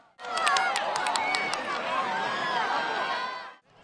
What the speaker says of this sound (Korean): 환호성과 박수가 나옵니다